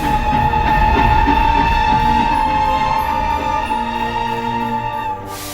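A magical Christmas Express train arrives with a loud, sustained rumble and ringing metallic tones, fading slightly toward the end before cutting off.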